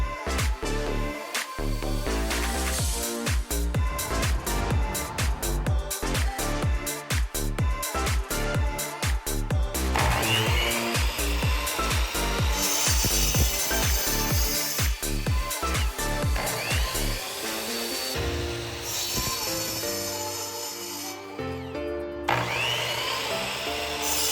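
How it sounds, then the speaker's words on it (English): A power saw cuts 2x4 lumber into legs for cornhole boards, with loud, close bursts of rapid buzzing as the blade bites through the wood, separated by short spin-downs between cuts. "We're also gonna be cutting 8 10-inch long 2x4s for the legs of our 4 boards."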